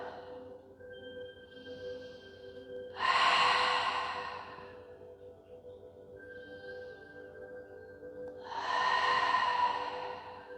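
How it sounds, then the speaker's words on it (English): Two deep breaths during a yoga stretch, each a soft, airy rush lasting over a second, roughly six seconds apart, heard close against a quiet room with a faint steady hum. "And breathe."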